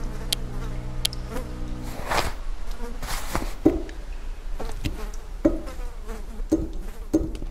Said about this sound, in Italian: Oh cavolo, questi insetti stanno dappertutto.